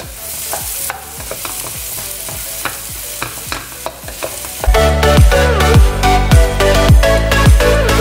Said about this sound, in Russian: И в масле жарим наши шампиньоны.